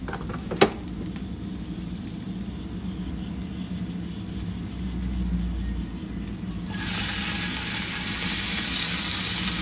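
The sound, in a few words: pork patty sizzling in a hot pan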